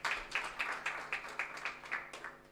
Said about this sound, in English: we didn't give Honorable Linda Auma Agnes a befitting round of applause